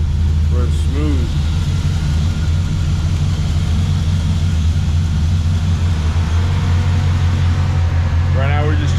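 A truck engine fitted with a replacement motor idles smoothly and steadily, a loud close continuous low rumble with no knocks or misses, with faint brief sounds at the start and end.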